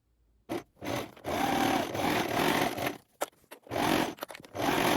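A sewing machine stitching the crotch seam of trousers at 1 cm, long steady whirring runs broken by short pauses and brief stops, close and loud, no speech.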